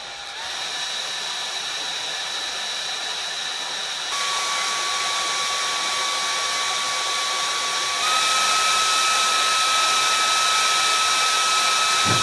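A Thirdline Alaska handheld air-conditioner cooling fan running, a steady, close, loud whirring hum with a whining tone that steps up in pitch and loudness twice as the speed setting rises.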